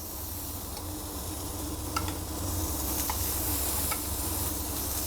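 Foie gras sizzles in a hot pan alongside butter, golden apples and Armagnac, a close, steady frying hiss with a few soft stirring clicks and no voices.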